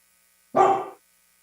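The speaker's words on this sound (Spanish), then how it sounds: "Eso que escuchan es Inaní, la perra de Esteban, que ya vino a vivir con nosotros." Inaní, a female dog, lets out a single short, sharp bark, close and fairly loud, with silence on either side.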